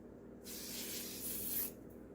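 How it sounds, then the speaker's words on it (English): A setting spray is misted onto a face in one sustained hiss of about a second, close and steady, and it fades out cleanly. "we're going to go ahead and spray the face"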